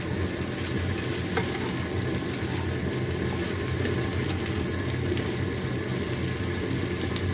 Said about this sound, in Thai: แล้วก็จะผัดไปแบบนี้คลุกคลุกคู่กันจนกระเทียมหอมหอมออกเกลี่ยกับพริก